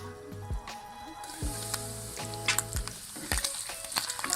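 Chicken pieces frying uncovered in a pan for a Pakistani village-style chicken dish, a continuous hissing sizzle with scattered crackles and a few utensil knocks, close up and steady, with faint background tones.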